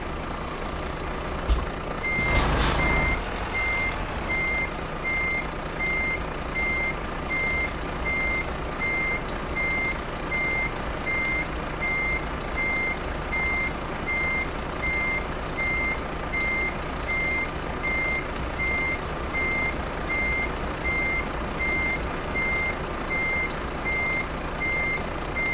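Reversing beeps from a truck backing up to hook a trailer in Euro Truck Simulator 2, a steady repeating beep pattern running throughout over a constant engine idle, with a brief louder hiss burst near the start.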